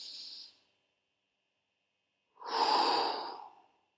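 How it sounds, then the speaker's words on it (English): A slow, deep breath during a guided meditation: a soft airy hiss that fades away, then after a silent pause a louder, fuller exhale rising and slowly fading, near and alone. "One more deep breath."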